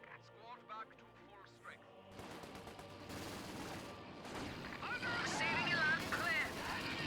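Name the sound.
gunfire from the video game Company of Heroes 2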